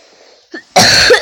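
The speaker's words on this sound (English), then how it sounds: "I'm sorry for coughing in the camera" A single harsh cough bursts out close to the microphone after a faint throat noise, loud and abrupt in a quiet room during a Minecraft live stream.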